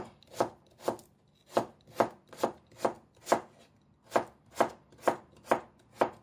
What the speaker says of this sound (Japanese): 大根は食べやすいように、2、3ミリの厚さに